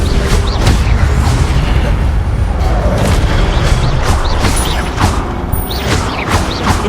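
A fiery Incendio spell blasts in Hogwarts Legacy, a loud, sustained roaring burst of flame and rumble that fills the whole stretch without pause.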